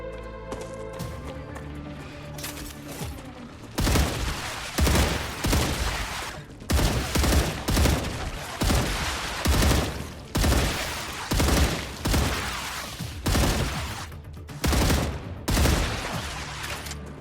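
Automated turrets firing in a survival building game, repeated loud bursts of gunfire in uneven clusters over a steady background, close and dominant, with no talking.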